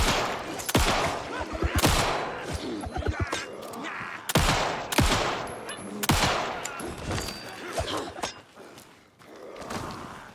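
Shotgun blasts in the video game Alan Wake 2: several loud, sharp booms spaced a second or two apart, mixed with thuds, shattering and footsteps in a noisy fight.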